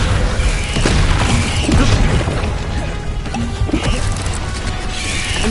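Descendo spell slam in the Hogwarts Legacy video game, a loud booming crash with a heavy low impact and rumbling, smashing debris that sustains evenly for several seconds, with no voice over it.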